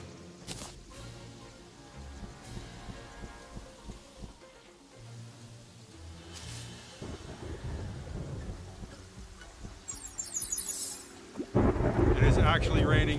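Rain patters steadily in a Terraria desert while deep thunder rumbles in the distance, and the downpour swells much louder toward the end.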